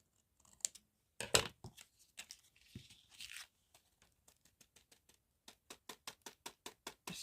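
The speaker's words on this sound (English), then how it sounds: "Try and cut it straight." Scissors snip through paper in a quiet room, a series of short, crisp cuts and tearing rustles, irregular at first and then settling into a quick, even rhythm, with no talking.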